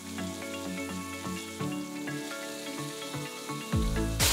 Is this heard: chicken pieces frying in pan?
yes